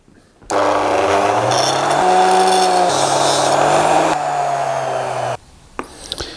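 A ToolMania bench grinder runs loud and steady while a bolt is held against the wheel to clean it up, its whine shifting in pitch under load for several seconds before it stops and winds down.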